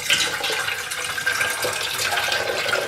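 Water pours steadily into an enema bucket, a continuous loud splashing and gushing stream that runs without pause and with no voices.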